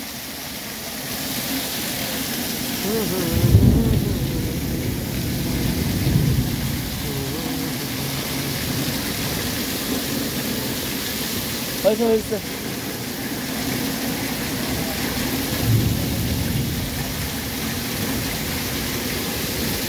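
Heavy rain pours steadily in hilly country while thunder rumbles low several times in the background. A voice speaks briefly over the downpour.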